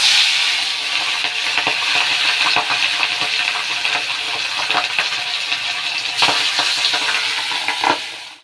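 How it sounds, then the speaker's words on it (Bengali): Fish frying in hot oil in a pan, a steady broadband sizzle running throughout with occasional clicks and scrapes, fairly loud and close, no talking. "এবার এই মাছগুলো ভাজা যাক"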